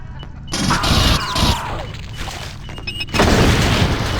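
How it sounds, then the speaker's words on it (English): A satchel charge explodes in the Doom 2 total conversion Aliens: Eradication, a loud boom with crashing, cracking debris. A second burst follows about a second and a half later. "they violently fling a satchel charge in your direction"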